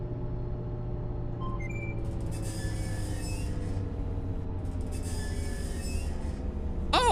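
Train passing in the EverRail game, a loud continuous rumble with steady droning tones that slowly shift in pitch, with brief metallic squeals and clanks over the top.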